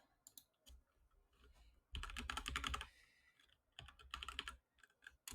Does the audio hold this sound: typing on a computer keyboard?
yes